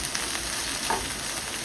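Vegetable bhaji fritters frying in oil in a pan, giving a steady, close hiss and crackle of sizzling oil with a faint clink partway through.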